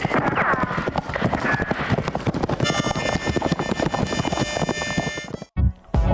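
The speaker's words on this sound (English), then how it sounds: "your horse is ready. Can't you see I'm already saddled up? Let's ride." A horse gallops in a Wild West video game, giving a fast, loud, rhythmic clatter of hoofbeats with music and game sounds behind it before everything cuts out abruptly near the end.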